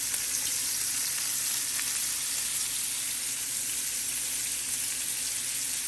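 Onions sizzle and fry steadily in a hot pan, a continuous close crackling hiss with no talking.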